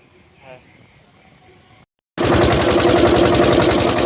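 A motor boat engine catches after a brief silence and settles into a loud, steady close-up chugging on a river in the Sundarbans, preceded by quiet ambience.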